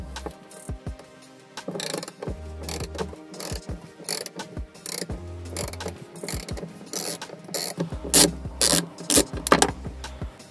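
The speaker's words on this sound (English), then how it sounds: "Using the 10 millimeter socket, we're going to have to gain access to the diagnostic port." A ratchet with a 10 mm socket and extension loosening a screw near the cup holder inside a Kubota SVL75 cab, clicking in quick repeated bursts of pawl ratcheting, loud and close, with brief pauses between runs.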